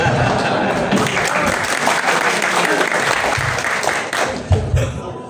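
A loud, close round of audience applause at an Indonesian religious talk rolls on steadily, with some low voices and shuffling bursts near the end as the clapping starts to ease.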